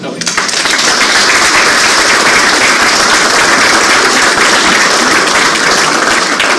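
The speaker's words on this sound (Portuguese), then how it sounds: "merece a nossa salva de palmas" Loud, dense applause from a seminar audience at the closing of an industrial production project, starting abruptly and holding steady as a continuous roar of clapping.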